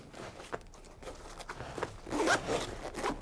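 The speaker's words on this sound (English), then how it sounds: "Close it up. Get your zippers." A zipper on a Push Division 01 gun bag is drawn closed in a series of short, scratchy pulls, close and distinct, growing louder toward the end.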